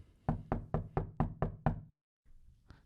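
Knocking on a door in a stairwell, seven sharp, evenly spaced raps close by and loud, followed by a short silence and faint rustling.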